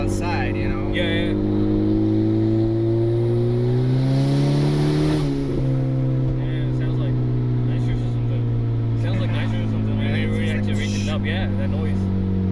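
Boosted turbocharged Honda Civic with no muffler revs hard from inside the cabin, a loud droning engine tone climbing in pitch then dropping and settling into a steady high drone, with people talking over it.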